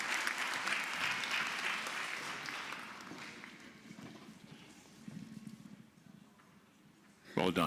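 An audience applauds a speaker at a science conference closing ceremony, clapping that starts full and fades to sparse, scattered claps, with a louder burst at the very end.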